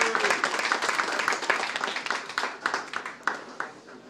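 Audience applause for a firefighter honored for 17 years of community service at a kickoff event: a burst of clapping that thins into scattered, uneven claps as it fades.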